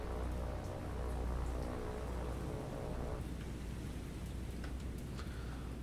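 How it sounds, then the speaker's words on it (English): Steady rain with distant rumbling thunder in the naval combat game War on the Sea, a continuous wash of falling water holding at an even level throughout with no voices. "Ooh, rain."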